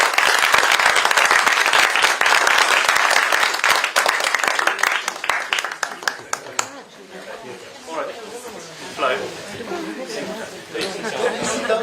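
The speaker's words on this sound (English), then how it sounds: "A round of applause, please." A crowd claps and chatters after a climate panel at Davos, with dense, loud applause for several seconds that thins into scattered claps and murmuring voices toward the end.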